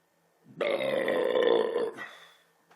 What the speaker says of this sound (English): I'm starting to like these belches.